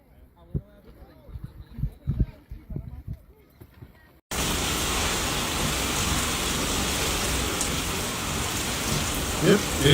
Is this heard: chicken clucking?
no